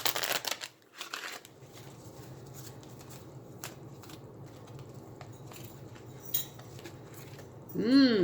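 Tarot cards are shuffled close by in a run of soft riffling and flicking. Light clicks and handling noises come before it, and a brief voice is heard at the end.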